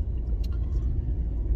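Inside a moving car on a drive home, a continuous low engine and road rumble fills the cabin, with a few faint brief clicks and rustles above it.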